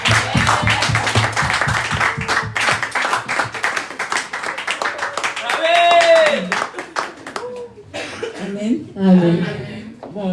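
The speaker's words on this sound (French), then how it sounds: "Acclamez pour notre sœur Sarah" Church congregation at a New Year's Eve service clapping for a sister named Sarah, a dense burst of rhythmic handclaps that fades into scattered claps, chuckles and a cough, with voices talking in the hall.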